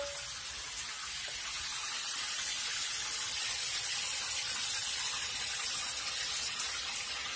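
Water running steadily from a makeshift shower rigged from a bathroom sink, a continuous hissing spray with no voices, holding at an even level throughout.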